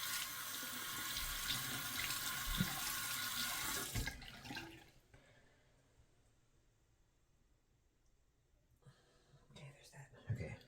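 A Dovo Bismarck straight razor is rinsed under a running tap: a loud, steady gush of faucet water for about four seconds, then it cuts off, leaving near-quiet with a few soft handling sounds near the end.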